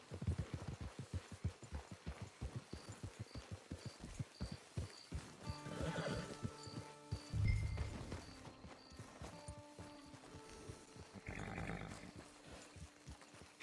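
Horse hooves clip-clopping in Red Dead Redemption 2, a steady rhythmic plod of close hoofbeats throughout, with a few tonal calls and a burst of louder sound midway layered over the gait.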